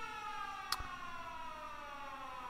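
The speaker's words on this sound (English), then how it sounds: "That is a little siren I set up just to tell me when the rocket is about to launch." A rocket launch warning siren in the video game Factorio drones steadily at low volume, a sustained wailing tone with a brief click partway through and no talking.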